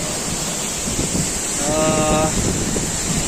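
A steady roar of falling water comes from the Langkuik Tinggi waterfall, about 15 metres high, close and continuous, with a brief voice rising over it midway.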